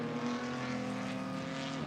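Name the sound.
Porsche GT race car driving on track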